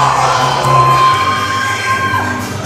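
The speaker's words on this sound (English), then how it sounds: "And the crowd here at East LA loving him." Wrestling crowd at an East LA lucha libre event cheering and shouting loudly, a dense sustained roar of voices with children's yells throughout.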